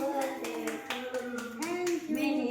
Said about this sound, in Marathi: चला सगळ्यांनी टाळ्या वाजवा.